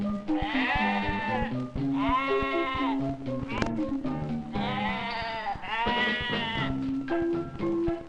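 Several sheep bleat one after another, long wavering calls close by with short gaps between them.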